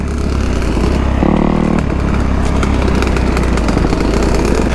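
A Kawasaki KX250F or Suzuki RM125 dirt bike runs on a trail with a loud, close engine drone that swells briefly in pitch and then holds a steady, rough roar.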